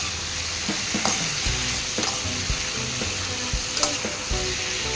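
Tomatoes sautéing and being stirred in a pan for a Tamil fish curry, a steady sizzle with repeated scrapes and knocks of a spoon against the pan.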